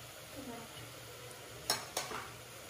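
Onion and tomato frying in a pan for mutton soup, a low steady sizzle with two sharp scraping stirs of a utensil against the pan near the end, no talk.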